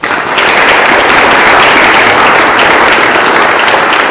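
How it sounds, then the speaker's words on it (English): A large audience applauds a panel at a music industry event, steady dense clapping filling the room, loud and sustained throughout. "big round of applause, a big thanks to the panel, to Mark, to Markel, to Willie and to you."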